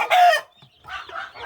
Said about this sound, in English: I got the roosters crowing like crazy.